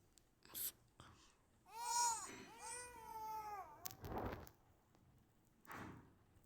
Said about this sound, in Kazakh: Успокойте малыша.